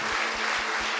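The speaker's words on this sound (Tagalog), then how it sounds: "Pinakamalakas sa palakpak sa ating Diyos." A church congregation claps loudly for God during a worship service, a dense, sustained burst of applause from many hands filling the room.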